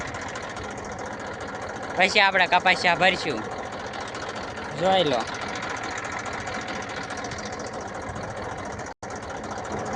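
A farm tractor pulling a sowing implement idles steadily in the background, a low continuous engine drone, while someone talks over it.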